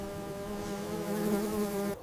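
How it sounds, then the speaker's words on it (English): A European wasp facing aggressive ants gives off a steady, close insect buzz that holds a constant drone for two seconds before cutting off abruptly. "a European wasp comes face to face with aggressive ants"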